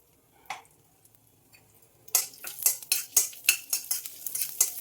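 Urad dal, coriander seeds and dried red chilies frying in a little oil in a pan: a faint knock, then a rhythmic run of metal spoon scrapes and stirs over a soft sizzle.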